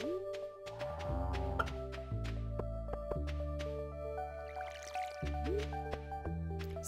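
An automatic sprinkler waters crops in the farming video game Stardew Valley, giving soft repeated dripping splashes over the game's steady tonal background music, with no talking.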